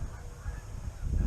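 A single goose honks during an early-season wood duck hunt, low, rough calls repeating and growing louder toward the end as it approaches, with no speech.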